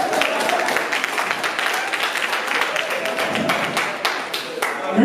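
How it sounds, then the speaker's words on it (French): An audience at a live French-language comedy show claps for a mother: loud, thick, continuous clapping close to the microphone, tapering slightly near the end. "Applaudissez pour la maman"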